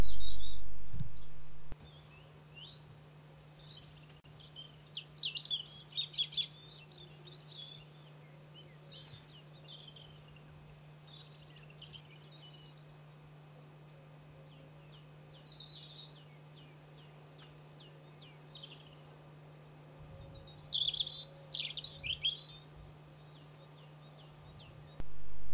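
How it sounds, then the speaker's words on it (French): Thin, very high-pitched warbler song repeats in short bursts over a soft steady hum, with quiet gaps between phrases. "La paruline rayée."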